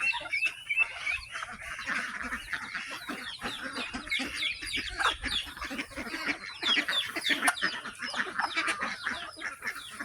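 Chickens cluck and a duck honks on a provincial farm, a busy mix of overlapping calls at close to moderate range with no talking.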